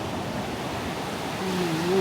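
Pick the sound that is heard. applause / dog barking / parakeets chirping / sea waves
sea waves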